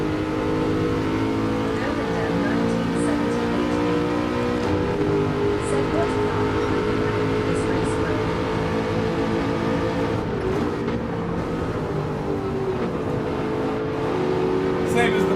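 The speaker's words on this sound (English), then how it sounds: "I'm in the Aston Martin" An Aston Martin race car in Gran Turismo 7 holds a loud, sustained engine roar with shifting pitch as it accelerates and downshifts, heard up close from the cockpit, and a person talks over it.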